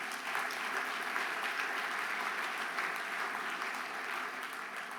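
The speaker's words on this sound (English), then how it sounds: "Please give them a round of applause" An audience at a mayors' annual meeting opening plenary session gives sustained, dense applause with steady clapping for the whole stretch and no speech over it.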